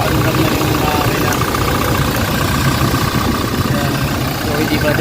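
Toyota Fortuner with a 2GD diesel engine and automatic transmission idles steadily and loudly up close, a continuous rough rumble with no change in pace.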